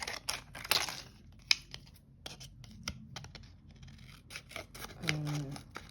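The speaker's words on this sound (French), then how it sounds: "Alors, j'ai pris une demi-bouteille de plastique. Je vais la découper." Scissors snip through half of a plastic bottle, cut into slightly rounded rings for recycled jewelry, making a run of close, crisp clicks and crackles followed by a louder scraping crunch.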